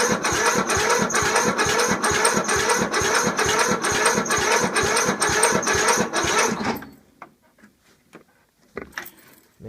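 A snowblower's small engine cold-starting at around zero degrees runs in rapid, steady pulses for about seven seconds, then cuts out, leaving a few faint knocks and clicks.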